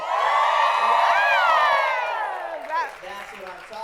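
A rowdy audience at the 2016 Golden Apple Awards for teaching and leadership cheers and screams loudly in a dense, sustained roar that holds for a few seconds, then tapers into scattered whoops.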